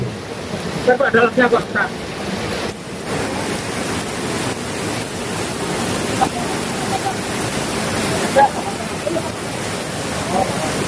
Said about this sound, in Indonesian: benar-benar hujannya lebat banget ya, cukup deras